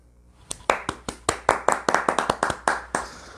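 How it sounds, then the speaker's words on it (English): A few people on a talk show clap their hands, about fifteen sharp, distinct claps in a quick, slightly uneven rhythm, close and fairly loud, with no talking. "We do the clap here."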